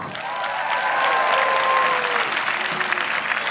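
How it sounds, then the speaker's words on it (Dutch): Warm applause from a concert hall audience greeting a singer taking the stage, a full, sustained wash of clapping that swells and then begins to thin out. "Geef hem een groot en warm applaus."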